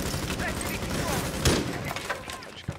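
Gunfire in the tactical shooter Rainbow Six Siege strikes the player amid dense game noise, with a sharp impact burst near the middle and another toward the end, all under players' voice chat.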